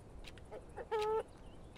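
A chicken in the survival game Mr. Prepper gives a few soft clucks and then one brief, clear squawk, heard alone and fairly faint.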